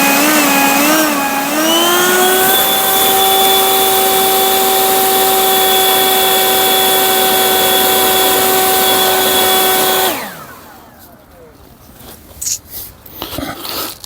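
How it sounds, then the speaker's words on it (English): Toro leaf blower running loud and steady, its whining tone rising as it spools up and holding for several seconds before cutting off and winding down, leaving faint handling noises. "We have the Toro blower,"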